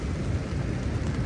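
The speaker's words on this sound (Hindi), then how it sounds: "बाहर पड़ रही है भाई बारिश" Rain falls steadily outside a camping shelter beside a river in Kashmir, a dense, even hiss with a low rumbling undertone.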